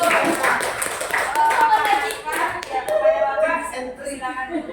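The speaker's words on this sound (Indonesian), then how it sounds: "Tepuk tangan dulu untuk" An audience at a school gathering claps, with a dense patter of hands close by under voices that continue through it.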